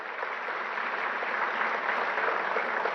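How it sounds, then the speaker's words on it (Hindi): Loud, even applause from a large crowd at a government agricultural ceremony in India where farmers receive natural-farming certificates on stage, a continuous dense patter of clapping lasting a few seconds without speech. "जोरदार तालियां।"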